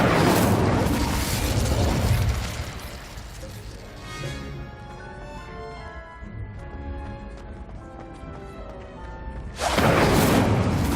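Incendio fire spell cast in Hogwarts Legacy, a loud broad fiery burst roaring for about two seconds, then quieter ringing magical tones, then a second equally loud burst near the end.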